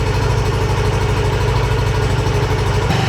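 Yamaha NMAX Techmax scooter fitted with a UMA back-pressure muffler, held at 3,000 RPM: a steady, throbbing exhaust drone with a fast regular pulse, close and loud, that drops off abruptly just before the end.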